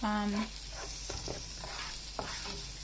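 Rice toasting and being stirred in a pan for stuffed peppers, with a quiet, close run of scraping strokes over a low sizzle and no talk.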